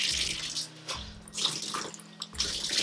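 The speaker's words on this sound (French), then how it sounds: "je vais quand même rincer parce que c'est plein d'après-shampoing" Water splashing and trickling as a garment full of conditioner is rinsed in a sink, soft running-water sounds rising and falling over a few seconds, no talk.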